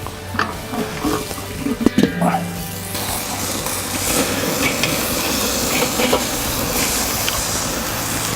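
Burgers hit a hot charcoal grill in a backyard, giving a steady close sizzling hiss that builds and holds after some brief clatter and talking at the start.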